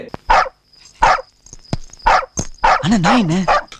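A dog barks several times in short, sharp bursts with brief pauses, followed by a higher, wavering whine or yelp near the end.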